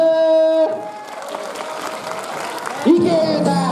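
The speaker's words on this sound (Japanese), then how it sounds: "拍手" Audience applause at a krump dance performance at a 2015 school culture festival, a steady crowd clapping with a sustained tone at the start and voices rising over it near the end.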